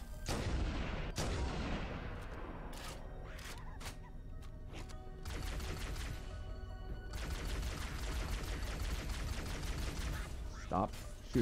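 Needler weapon firing in a Halo game on Legendary difficulty, a rapid stream of sharp crackling shots and impacts in irregular bursts, mixed with other combat noise and mechanical clatter.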